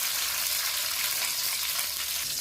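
Cumin, green chillies and a tomato frying in oil give a steady, dense sizzle that stays even and close throughout, with no talking.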